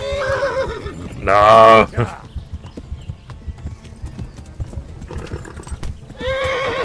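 A horse in Kingdom Come: Deliverance gives a loud, close whinny over rapid clip-clopping hooves, with hoofbeats continuing and another neigh near the end; someone speaks briefly.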